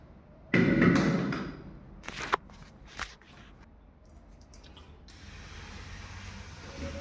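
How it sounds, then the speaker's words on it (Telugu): Pest control spray hisses into household cupboards in a few short bursts, then a steadier soft hiss near the end, with light tapping and knocking between the sprays. "పౌడర్ రాలకుండా ఒడ్డు రాళ్ళు ఒడ్డు పౌడర్ రాలకుండా స్ప్రే కొడుతున్నాను చూడండి"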